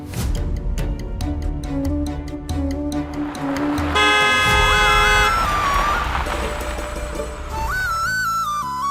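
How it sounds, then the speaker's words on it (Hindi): A car horn honks in short tones over loud music, the tooting repeating a few times near the end. "गाड़ी की आवाज आई"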